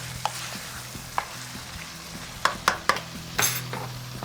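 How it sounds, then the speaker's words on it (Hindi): Washed rice goes into a pot of vegetable pulao with a few sharp clinks of a spoon against the metal and a soft sizzle underneath, close and intermittent, with no talking. "अब हम इसमें डालेंगे चावल।"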